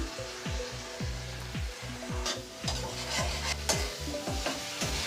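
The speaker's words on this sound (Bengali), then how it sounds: "মশলাটা আমার ভালো করে কষানো হয়ে গেছে" Spice masala stir-fried in a pan for potato curry: rhythmic scraping strokes of a spatula drag back and forth about twice a second over a continuous sizzle, close and fairly loud, with no speech.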